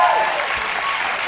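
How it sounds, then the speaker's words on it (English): A late-night talk show studio audience applauds steadily throughout, a dense wash of clapping with no voices on top. "and they're applauding."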